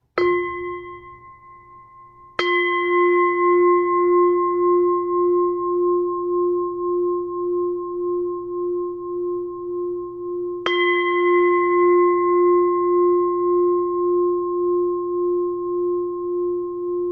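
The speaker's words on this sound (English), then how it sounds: "Please listen to the sounds of the bell." A meditation bell is struck three times, each strike a bright onset followed by a long, steady, humming ring that hangs in the air with no voices.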